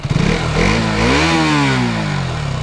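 A KTM Duke 200 motorcycle engine runs close by, a steady buzzing idle that swells into a brief rev and settles back, alone without talk.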